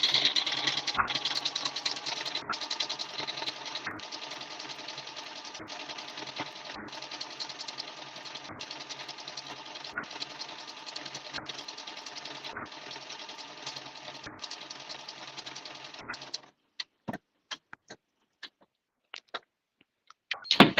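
A Janome embroidery sewing machine stitching out lettering for a quilt label, a fast steady mechanical chatter with regular brief pauses for about sixteen seconds, then stopping into a few isolated clicks and handling sounds.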